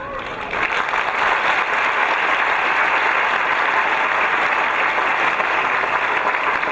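Sustained applause from a college commencement audience, a dense, steady roar of clapping that swells quickly and holds loud through the whole stretch.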